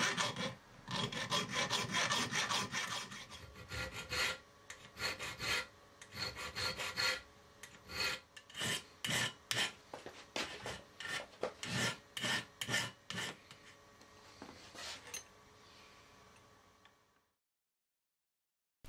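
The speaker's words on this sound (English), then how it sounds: "To finish off the profile at this end, I reach for my hardened buttons and files." Close, rasping strokes of hand files on a metal valve spindle part, first fast and dense, then slower regular back-and-forth strokes before stopping.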